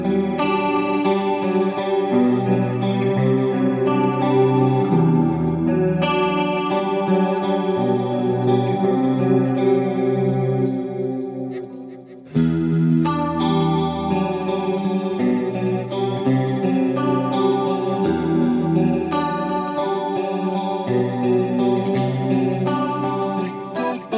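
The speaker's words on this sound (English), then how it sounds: "The sound of this guitar is a little bit brighter than the Les Paul" Bright, sparkly clean electric guitar with a chorus effect, fuller-bodied than a Les Paul, plays sustained chords and melodic lines continuously and up close, with a brief dip near the middle before the playing resumes.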